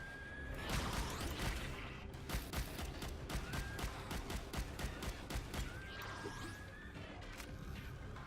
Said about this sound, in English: Kept firing that gun too much.